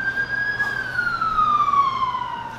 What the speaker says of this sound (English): please excuse the ambulance in the background.